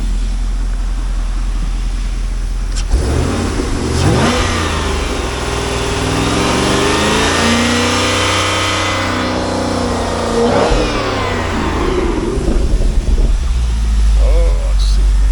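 A 2005 Chevrolet Corvette with the LS2 V8 and Corsa exhaust idles, then swells through a long smooth rev and settles back to a loud, rumbling idle, heard close and alone.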